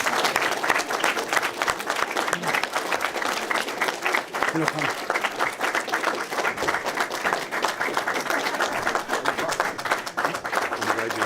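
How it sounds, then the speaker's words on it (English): An audience applauds a Fireman of the Year honoree, dense steady clapping running throughout with a voice speaking briefly over it. "I think he deserves another round of applause"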